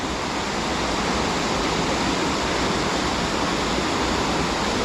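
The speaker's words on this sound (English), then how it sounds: "It's going right across the rocks." Water of the Wharnley Burn falls over rocks in a continuous heavy roar, dense and constant throughout, with no voices.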